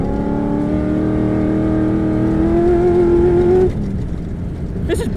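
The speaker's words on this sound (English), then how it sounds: "Drive it on the throttle." A 650 hp V8 off-road racer accelerates hard on dirt, its loud close engine note climbing steadily in pitch for several seconds before cutting off abruptly, leaving a lower rumble.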